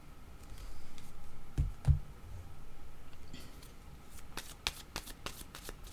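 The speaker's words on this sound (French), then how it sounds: "Je vais demander une autre carte." Tarot cards are shuffled and drawn close up in a quiet room. Soft riffling comes first, then a couple of sharp slaps and a run of quick papery flicks and clicks toward the end.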